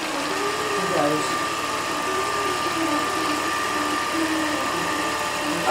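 Computerized quilting sewing machine stitching rows of quilt blocks and sashing, a steady mechanical hum and whir running at an even level throughout, with no pauses.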